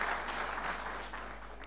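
Audience applause at a graduation ceremony for hydrology engineers, a brief, fairly faint patter of clapping in a hall with no talk over it.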